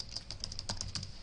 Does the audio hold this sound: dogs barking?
no